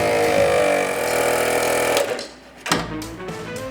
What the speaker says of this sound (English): and start the compressor.